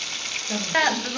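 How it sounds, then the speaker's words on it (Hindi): Tomatoes and potatoes with salt, red pepper and garam masala frying in a pan, a soft steady sizzle close by, with a brief brighter hiss partway through. "चले अब हम इसे थोड़े से देर फ्राई करेंगे"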